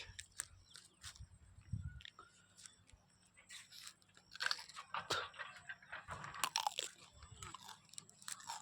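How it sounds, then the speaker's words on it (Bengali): Someone bites into and chews fresh cucumber picked in an open field, giving crisp, close crunches in irregular bursts against a quiet outdoor background, with a faint voice now and then. "মাঠের মাঝখানে শশার ভুঁয়ে এসছি শশা খেতে"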